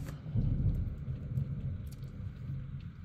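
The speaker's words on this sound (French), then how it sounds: "Je suis désolée de vous faire participer à ce bel orage." Thunderstorm with low rolling thunder and steady rain, a deep rumble that swells early and then carries on continuously, moderately loud, with no voices.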